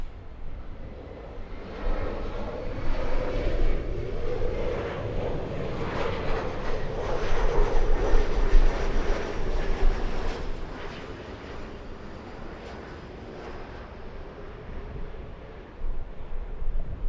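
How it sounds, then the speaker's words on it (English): An Embraer E-175 jet arriving at LAX from San Francisco makes a broad, steady engine roar that swells toward the middle and slowly fades, with some wind buffeting the microphone. "Little E-175 flying in from San Francisco."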